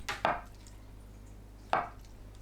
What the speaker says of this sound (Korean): 두부를 1cm 두께로 썰어줍니다